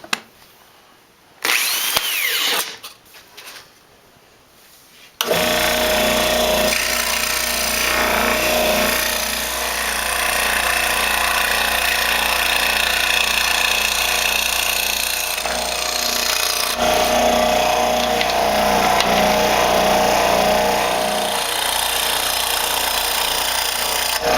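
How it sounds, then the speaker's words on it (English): Drill boring a hole through a wooden picture frame for a scroll saw cutout, with a few short handling knocks first, then a long, loud, continuous grinding whir close by. "I'm just going to drill a hole somewhere in the middle"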